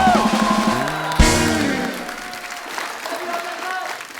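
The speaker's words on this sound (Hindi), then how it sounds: "आप सबकी जोरदार तालियों के बीच सबसे पहले बुलाते हैं मिस्टर अजय देवगन एंड रकुल प्रीत सिंह।" Studio audience of a televised comedy talk show applauding, steady clapping blended with music and voices, a sharp burst near the start, then thinning and quieter toward the end.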